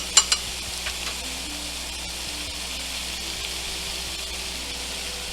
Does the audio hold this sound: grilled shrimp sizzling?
yes